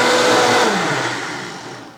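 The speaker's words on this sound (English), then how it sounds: "let's see how well the 5200 did at blending this" A Vitamix 5200 blender whirs loud and close, a steady high-speed motor drone that slowly softens over two seconds as it winds toward a stop, with no talking.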